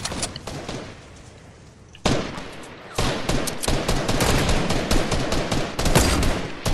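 Bursts of video game shooter gunfire, a quieter volley first and then dense, rapid loud shots that keep going through most of the clip.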